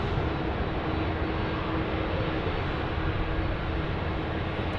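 Steady, loud broadband engine roar from a Saab 340 turboprop taking off at Sydney Airport, constant throughout with no speech.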